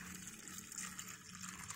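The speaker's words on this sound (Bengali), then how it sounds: "আর এতে আমি পরিমাণ মতন জল অ্যাড করব।" Water poured into a pressure cooker holding chickpeas with a little salt and turmeric, a steady, continuous close-up rush of liquid lasting throughout with no talking.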